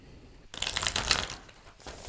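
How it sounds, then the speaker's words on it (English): Tarot cards shuffled by hand in a burst of dense papery riffling and crinkling, fairly close and moderately loud, easing off and then starting briefly again, with no talking. "Let me give it one more shuffle."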